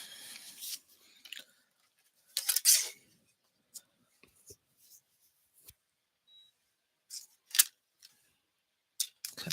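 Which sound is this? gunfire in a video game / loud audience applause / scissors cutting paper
scissors cutting paper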